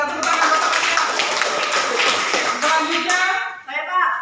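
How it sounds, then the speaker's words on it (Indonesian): Schoolchildren in an Indonesian classroom clap for a classmate, a busy, close burst of many small hands mixed with chatter and voices, fading out near the end. "tepuk tangan buat temannya"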